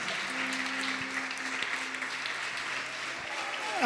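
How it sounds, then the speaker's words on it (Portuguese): Church congregation clapping together through the whole stretch, a steady dense patter of many hands at fairly close range, with faint voices murmuring underneath. "Vamos aplaudir e glorificar o Senhor."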